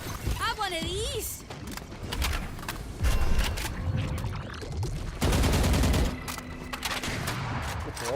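Gunfire from the video game Valorant cracks in several short bursts between game effect sounds, with people talking over the action.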